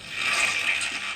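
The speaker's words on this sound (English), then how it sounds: "some water splashing sounds" Brief burst of water splashing recorded as audience foley for a live-made game soundtrack, a bright, close, sloshing rush lasting about a second with no speech.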